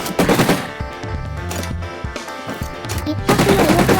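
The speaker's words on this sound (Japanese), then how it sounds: "右クリックで射撃。 フルオート式です。" A full-auto axe-shaped gun from a Minecraft data pack fires rapid bursts of clicking, chopping shots, with a brief pause mid-clip before another dense burst.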